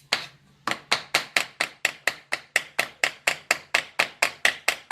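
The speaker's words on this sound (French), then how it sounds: "tu tapes un peu comme ça avec ton marteau dessus" A hammer taps repeatedly on a screw head beside a housing to peen and deform its recess, about nineteen sharp, evenly spaced metallic strikes after a short pause, close and fairly loud with no talk.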